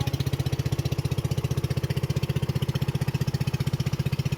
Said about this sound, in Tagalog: Naku, parang hindi yata andar yung makina. Ay, andar daw.